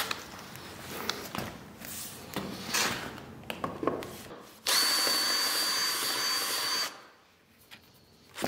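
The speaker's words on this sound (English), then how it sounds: "Giving it a quick deburr." A quick deburr of a freshly drilled 10 mm hole meant for an M4 bolt, likely a handheld deburring tool or countersink bit, gives a loud, steady whirring grind of about two seconds amid workshop clatter, with no talking.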